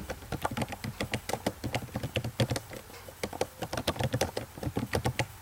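Rapid, uneven clacking of a computer keyboard as someone types JavaScript code, close and clear, with bursts of keystrokes and short pauses, no talking.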